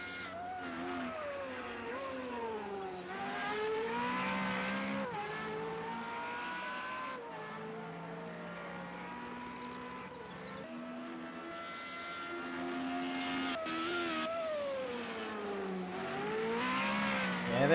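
Formula Renault race cars in Project CARS roar past with rising and falling engine whines, gear shifts stepping the pitch up and down, several cars overlapping continuously at close range.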